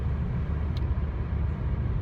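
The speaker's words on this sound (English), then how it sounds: "Well, that was a big truck." A big truck passes nearby outdoors, a steady low rumble that stays loud throughout with no voices.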